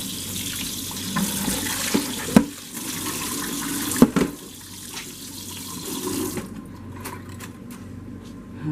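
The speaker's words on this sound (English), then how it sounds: "Wash my hand again" Running kitchen tap during hand washing while cooking meat loaf, a continuous water rush with a couple of sharp knocks and clatters before the flow stops near the end.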